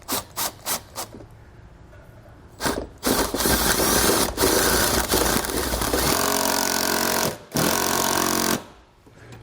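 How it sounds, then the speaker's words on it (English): A power driver with a 3/8 socket on an extension drives bolts through butyl tape and an awning bracket into the wall of a 2005 K-Z New Vision Solera RV. A few short taps lead into loud, sustained whirring runs broken by brief pauses. "We'll drive our bolts right through the butyl tape,"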